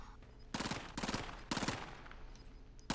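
Several quick pistol shots in Call of Duty: Modern Warfare, fired in short bursts of three or four sharp cracks with brief pauses between them, up close and clear over quiet game ambience.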